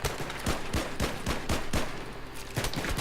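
Gunfire from a weapon in Battlefield 3 comes as a rapid series of sharp, evenly spaced shots, loud and close, in short automatic bursts with a brief pause near the end.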